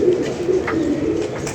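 Pigeons coo close by in a soft, repeated low burbling rhythm, several calls overlapping through the short stretch.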